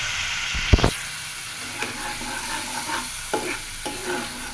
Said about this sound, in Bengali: লবণ দিব, দিয়ে মশলাটা কষায় নেব।